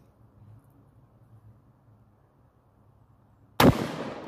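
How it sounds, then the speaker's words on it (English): After several seconds of near silence, a Mossberg 12 gauge shotgun fires a standard target round. The single shot is a sudden, loud, close blast that decays quickly. "Now for your standard type of target shooting round."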